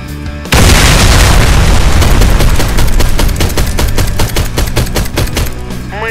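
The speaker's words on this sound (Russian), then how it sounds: "Осторожно, граната!" Grenade explosion in the shooter Warface: a sudden loud blast bursts in after a brief lead-in, followed by a rapid series of sharp cracks and rumbling debris that fades toward the end.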